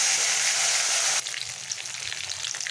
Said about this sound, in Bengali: এবার আমার যে মশলা রেডি করা ছিল, এবার আমি সেই মশলাটাকে দেব।